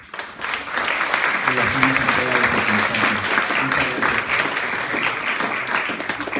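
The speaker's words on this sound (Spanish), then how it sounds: "darle un fuerte aplauso a Charbel por esta participación" Audience at an academic conference session on heavy metal and Black Sabbath applauds a panel speaker, a steady dense round of clapping lasting several seconds, with a voice speaking over it.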